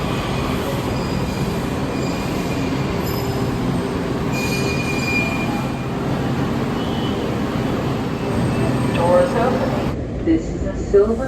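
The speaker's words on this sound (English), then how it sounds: "This is a Silver Line train to Wiehle-Reston East" A Washington DC Metro Silver Line train runs with a steady rumble, and high metallic wheel squeals ring out over it; a faint voice may sound in the background.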